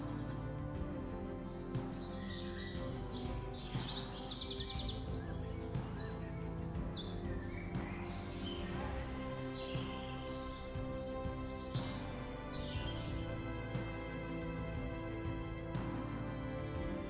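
Tropical birds in an Australian rainforest keep up a dense chorus of overlapping whistles, chirps and trills, several species calling at once at varied distances over a steady ambient hum.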